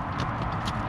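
Horses pulling a cart along a rural road in Bistrita Nasaud, Romania, hooves clip-clopping in a steady rhythm, close and clear over road and engine rumble.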